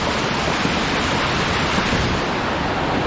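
A strong water flow rushes at a forest stream crossing along a railway-track trek to Dudhsagar Falls, a loud unbroken broadband roar filling the whole moment without a break.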